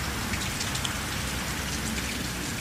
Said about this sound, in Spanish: Se escucha el sonido de la lluvia ahí en el ambiente de Rocío Ayala.